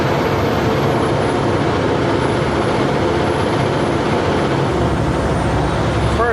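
A truck grinds along a mountain road in the Monashee Mountains while being shifted into first gear, a loud, close and steady engine and road roar filling the whole stretch without a break, with no one talking.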